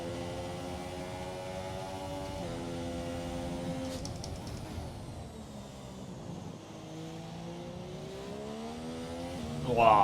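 Formula 1 car engine in the F1 2017 racing game at Bahrain, revving and accelerating through rising gear pitches with shifts, loud and continuous, with a brief engine flare at the end.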